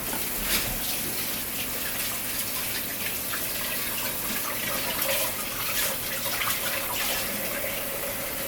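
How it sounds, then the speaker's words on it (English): Running tap water pours steadily while a handful of dry thyme is rinsed under it, a continuous close splashing hiss with no talking. "Gonna wash me a handful of dry thyme."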